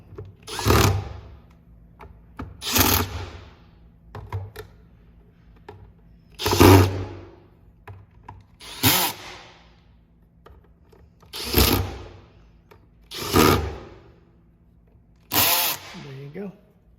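A power drill tightening screws into a vacuum motor assembly whirs in short repeated bursts, about seven close spurts separated by quiet gaps, with faint background hum.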